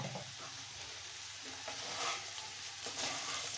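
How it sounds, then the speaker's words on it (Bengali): Soybean pulao ingredients sizzling and frying in a pan while being stirred, a steady crackling hiss with occasional scraping swells, no voices. "ভালো করে নাড়বো"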